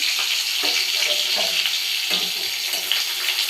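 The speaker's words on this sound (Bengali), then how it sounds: "এখানে বেগুন ভাজাটা হচ্ছে, চাপা দিয়ে দিয়ে ভাজছি" Brinjal (eggplant) slices, rubbed with salt and turmeric, frying in a pan while being pressed down, giving a steady close sizzling hiss with small crackles throughout.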